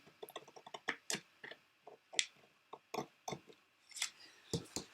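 Sharp scissors snipping fabric for a bodice dart, a quick series of crisp close cuts in irregular rhythm, some in fast bursts, heard alone in a quiet room.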